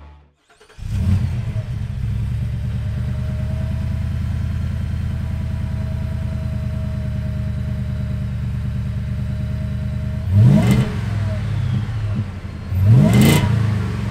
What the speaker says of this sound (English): The sounds this thing puts out is music to the V8 lover's ears